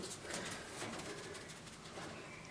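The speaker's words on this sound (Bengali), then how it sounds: "এটা দেখছেন দেশি ঘুঘু যেগুলো আমরা সচরাচর বাইরে দেখতে পাই গাছে" A native dove coos on a farm, soft repeated low calls over a faint background hum, with no speech.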